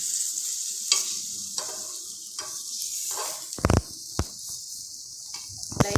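Banana kuzhi paniyaram fry in oil in a steady, close hiss of sizzling, broken by a few sharp scraping clinks of a utensil turning them in the pan.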